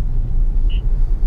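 A Tesla car driving itself on FSD 12.3.2.1 gives a steady, heavy low rumble of road and tyre noise heard from inside the cabin, with a brief faint high tone midway.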